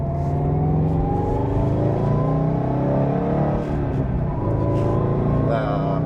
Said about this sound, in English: I'm having too much fun driving this car today.